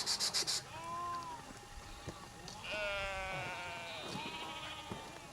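Sheep and lambs bleat repeatedly while climbing a steep Karoo mountain trail on Vloksberg, several plaintive, wavering calls overlapping at moderate distance, with a brief burst of rhythmic clatter at the start.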